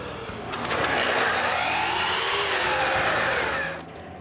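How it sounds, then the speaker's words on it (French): Power saw cutting small pieces of masonite board for push blocks in a woodshop, a steady loud whine spinning up and running for several seconds before winding down, with no talk. "je dois couper des petits bouts de maçonnette qui me serviront à pousser la pièce de bois"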